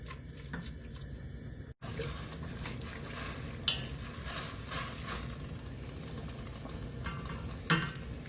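Ingredients for oyster and perilla seaweed soup, seasoned with soup soy sauce, are stir-fried in a pan, with a soft continuous sizzle and occasional scrapes and clinks of a utensil, all fairly quiet and without talk.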